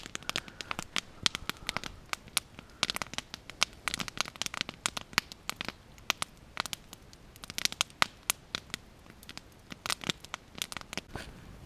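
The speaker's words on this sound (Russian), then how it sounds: "Мой костер стреляет на весь лес." Campfire burning at night in a forest grove, cracking and popping loudly with sharp, irregular snaps scattered densely over a low background hiss, close by and without talk.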